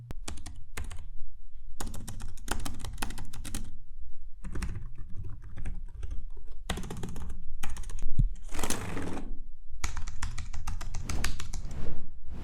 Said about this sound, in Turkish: Ve klavyesi ciddi anlamda benim hoşuma gitti. Şöyle sesini dinleteyim.